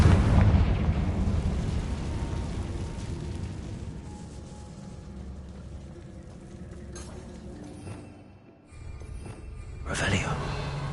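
A Confringo blasting spell exploding in Hogwarts Legacy, a loud rumbling blast at the start that slowly decays into a low roar, followed later by sharper cracks and a second burst.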